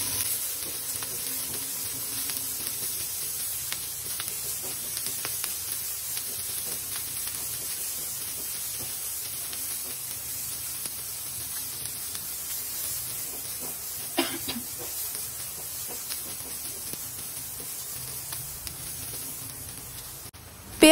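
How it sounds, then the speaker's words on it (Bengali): Onions and green chillies fry in oil with a faint, steady sizzling hiss that continues evenly throughout, with only a small clatter here and there. "সামান্য একটু লবণ দিয়ে আমি এবার পেঁয়াজ এবং কাঁচামরিচটাকে সুন্দর করে ভাজা ভাজা করে নেব।"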